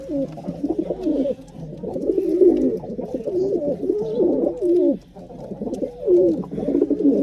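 Pigeons coo continuously close by, a low warbling murmur with overlapping calls and no voices.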